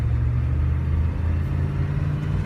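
Low, steady engine rumble inside a 1993 Ford E-350 Super Duty ambulance with a 7.3L turbo diesel, driving on the road, a continuous deep drone without talk.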